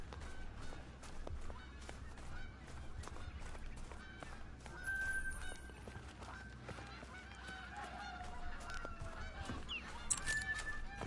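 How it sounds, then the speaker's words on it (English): Geese honk in a hunting video game, a flock's repeated nasal calls scattered across the scene at moderate distance over a faint ambient background. "Man, those geese are annoying."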